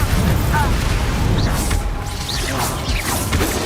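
Confringo and Bombarda spell blasts from Hogwarts Legacy burst in quick succession over dense, loud game action, with booming hits and swishing magical whooshes layered throughout.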